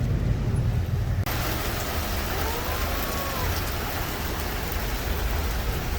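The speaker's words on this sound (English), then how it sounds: "Now it's really raining." Steady rain falls on a city street in Charleston, South Carolina, a dense even hiss of drops on pavement that swells suddenly after the first second and continues loud and unbroken, with faint traffic beneath.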